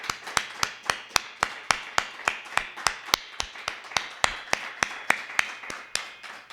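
A church congregation claps in steady unison, about twenty sharp, evenly spaced claps keeping a brisk rhythmic beat, fairly close and loud, with no voices over them.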